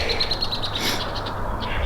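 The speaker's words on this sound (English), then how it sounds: "Those are red-winged blackbirds, by the way, making that racket." Several red-winged blackbirds call repeatedly in short, high chirps and trills over a low steady background rumble, fairly close and busy, by a lake in the evening.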